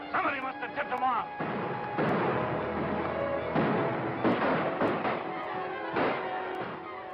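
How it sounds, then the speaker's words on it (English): Gunfire outside in a western film: bursts of sharp shots and booming reports, some rapid and clustered, under and between spoken dialogue. "A lot of shooting going on out there."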